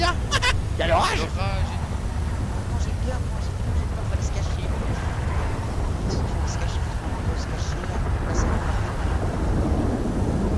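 Heavy rain under a thunderstorm with a continuous deep rumbling roar, while people's voices stand out near the start and then fade into the steady downpour.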